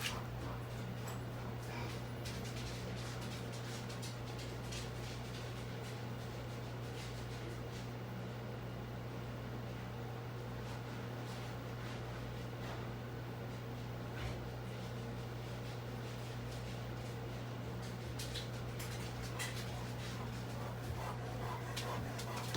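Dogs whimpering and panting while waiting for a bone, faint and ongoing indoors over a steady electrical hum.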